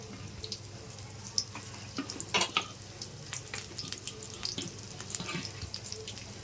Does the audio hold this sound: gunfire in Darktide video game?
no